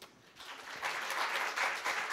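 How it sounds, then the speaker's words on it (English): Audience applause at an e-governance discussion panel: a dense, steady wash of many hands clapping that swells after a quieter start and keeps going without a break. "Applaud."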